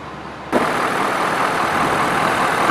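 A Ford F-250 pickup's 6.7 liter Power Stroke turbo diesel V8 idles with a steady, even rumble that starts abruptly and stays loud and close throughout.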